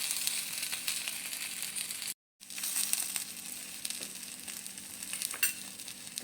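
Bread slices fry on a hot tawa griddle in oil, giving a steady, close, hissing sizzle that cuts out for a moment before resuming with scattered crackles.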